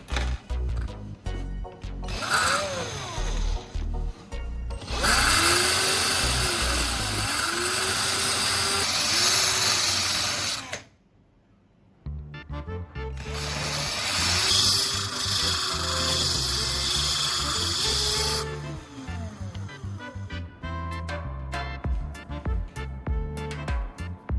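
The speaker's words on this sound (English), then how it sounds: "I'm going to carefully grind down the head of the screw to make it smaller and create a better fit" A small screw head is ground down with a rotary power tool, two long harsh grinding bursts separated by a brief pause, with scraping and handling noises before and after and no talking.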